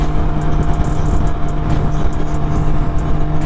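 Can-Am Ryker three-wheeled motorcycle running steadily on a ride, a loud continuous engine drone with a low hum throughout and no voices.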